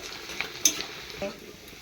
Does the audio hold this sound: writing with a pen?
no